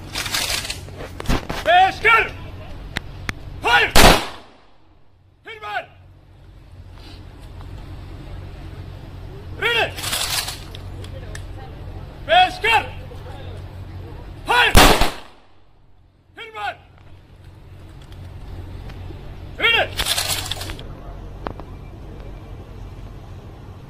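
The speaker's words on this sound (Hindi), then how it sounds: "उसके बाद पुलिस दल की ओर से हवा में 3 फायर कर उन्हें सलामी दी गई।" Police fire a salute into the air at a state funeral for a political leader. A few sharp, widely spaced gun reports break through a steady murmur of voices and crowd noise.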